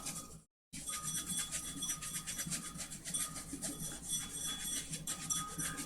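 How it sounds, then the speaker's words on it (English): An old scruffy brush rubs dried paint off a glass candle holder in a steady, close, continuous rasping scrub, broken by a brief pause near the start, with no talking. "take an old scruffy brush and really rub it to get all the excess off"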